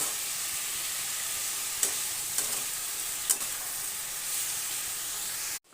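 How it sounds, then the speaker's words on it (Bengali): Snake gourd (chichinga) with poppy seed and slit green chillies stirred in a pan, giving a steady hissing sizzle with three or four sharp scrapes before stopping abruptly. "দিয়ে ভালোভাবে নেড়ে চেড়ে দেবো"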